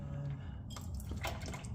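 Fluid drains from the drain plug of a 1998 Jeep XJ, a steady close-up trickle and splatter of liquid with a few irregular drips, moderately faint and without talk.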